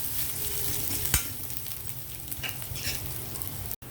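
Ginger and lentils fry in hot oil for ragi semiya upma, a close, busy sizzle with a spoon scraping and stirring through it, including one sharp knock and a brief dropout near the end, and no talking.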